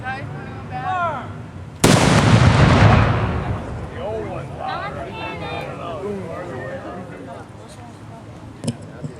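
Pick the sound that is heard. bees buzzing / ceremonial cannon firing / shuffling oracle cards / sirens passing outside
ceremonial cannon firing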